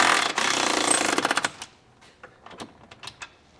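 Rapid rattling burst from a power tool driving a 21mm socket onto a hitch bolt nut while a 19mm wrench holds the bolt head, fitting a trailer hitch receiver to a 2024 Hyundai Palisade; loud and close, then scattered metallic clicks and clinks.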